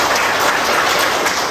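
A university class applauds a student after a presentation, a brief, dense burst of clapping close to the recorder, with no voices on top of it.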